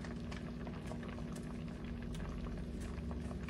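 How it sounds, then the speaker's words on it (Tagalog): A pot of shrimp miki noodles boiling on the stove gives a steady bubbling and popping, dense and continuous, heard close and moderately quiet without talk. "So ayan na po, kumulo na."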